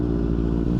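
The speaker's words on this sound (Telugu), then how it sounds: "బైక్ అయితే స్టార్ట్ చేసి ఐడ్లింగ్ పెట్టిన." A Benelli 600i motorcycle engine idles with a loud aftermarket exhaust, a close, steady low rumble with a dense, even throb throughout and no voices.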